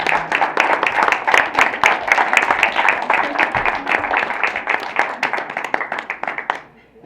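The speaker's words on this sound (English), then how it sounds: "Give them an applause" Audience clapping for parents and guardians at a Black History luncheon, a sustained round of dense applause from many hands that carries steadily, then fades out near the end.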